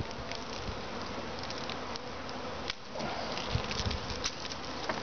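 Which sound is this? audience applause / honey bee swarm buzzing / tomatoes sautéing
honey bee swarm buzzing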